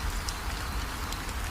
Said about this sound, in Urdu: بارش تیز ہو گئی تھی